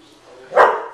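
A dog gives a single short bark at home, close and fairly loud, rising out of a low background murmur near the end.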